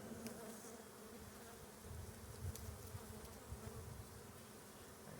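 Honey bees buzz over hive frames, a dense, continuous droning hum from many insects close by, steady with slight swells, and no voices.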